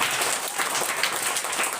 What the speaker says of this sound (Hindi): तो इन सभी विद्यार्थियों के लिए भी जोरदार ताली मार दीजिए